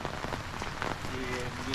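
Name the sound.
rain falling during outdoor reporting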